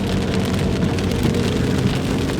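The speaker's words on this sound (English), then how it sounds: "The rain is just stopping." Steady, dense thunderstorm rain pattering on a hard surface near a mountain resort, continuous and fairly loud, with a faint low rumble beneath and no voices.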